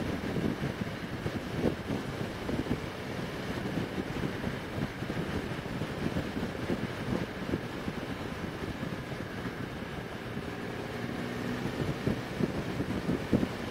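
A 2020 Can-Am Spyder RT Limited three-wheel motorcycle cruises steadily in fifth gear, its low engine drone blended with constant buffeting wind noise across the microphone, with no talking.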